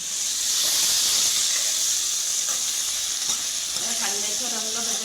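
Chopped onions fry in a pan for a fenugreek and egg dish, giving a bright, steady sizzle up close with occasional stirring scrapes and a soft voice underneath.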